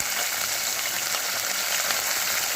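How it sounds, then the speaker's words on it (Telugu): Green chillies sizzling in hot oil tempering in a pan for a cabbage tomato curry, a bright continuous hiss of frying, close and steady without talk. "పచ్చిమిరపకాయలు వేసేసుకోవాలండి."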